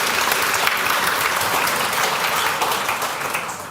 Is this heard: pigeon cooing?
no